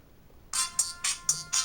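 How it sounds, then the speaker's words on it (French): A ViewSonic V500 mobile phone ringtone plays alone, five short bright bursts in a steady repeating rhythm after a brief quiet start, fairly loud and close. "je vais vous faire écouter un petit peu la sonnerie du téléphone"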